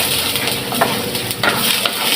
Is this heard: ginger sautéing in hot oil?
yes